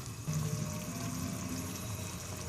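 Two and a half cups of water pour steadily into a pot for Cuban-style oxtail stew (rabo encendido), a close, continuous splashing rush lasting a few seconds with no talking.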